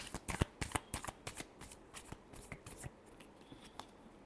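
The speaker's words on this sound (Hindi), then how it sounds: "फैमिली की रीडिंग, लास्ट शफल।" Tarot cards shuffled by hand during a reading, giving a rapid series of crisp riffling slaps and flutters that thin out into softer, sparser shuffles, close and fairly quiet with no talking.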